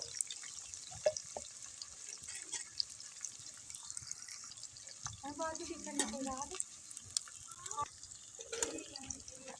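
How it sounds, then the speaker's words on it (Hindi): Onions sizzle in hot ghee with a faint, steady hiss, broken by a few soft clatters near the middle. "प्याज जो है वो फ्राई कर लेंगे, सारा ही डाल के जो है प्याज फ्राई कर लेंगे।"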